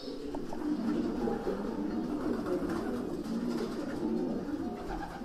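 Racing pigeons coo inside a professional loft, a continuous layered murmur of soft throaty calls from many birds close by.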